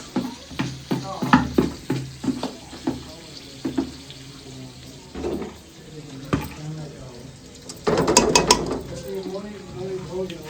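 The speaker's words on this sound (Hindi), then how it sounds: "ये घी जो बाल्टी में पड़ा था ना, ये सारा मैंने इधर डाल दिया पकौड़े के लिए" Ghee scooped from a bucket sizzles in a pan ready for pakoras, with a spoon clattering and scraping in quick repeated strokes, a burst of running water partway through, and a steady frying hiss underneath.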